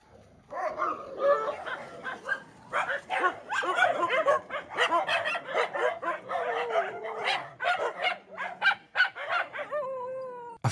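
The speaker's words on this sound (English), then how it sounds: "a pup that's outnumbered stands his ground and displays his" A young dog pup, outnumbered by other animals, barks and yips repeatedly in quick bursts across the clip, fairly close and loud, with some whimpering tones and a few high chirps near the end.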